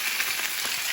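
Tuna steak sizzling in a hot frying pan, a steady close crackle and hiss with faint popping, heard alone for under a second.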